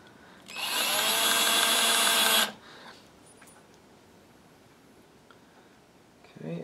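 A power drill with its clutch set runs in one steady two-second whir while driving a screw into a Telecaster guitar body, then stops, leaving quiet room tone with a faint click.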